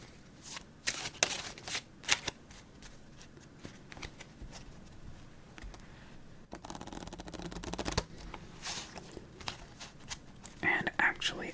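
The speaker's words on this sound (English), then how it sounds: "Let's give it a shuffle." A deck of playing cards is shuffled close up in a quiet room, with soft repeated riffling and flicking bursts and light handling rustles at a low, intimate level.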